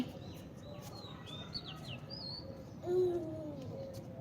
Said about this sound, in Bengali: হ্যাঁ পাখিগুলো উড়ে গেল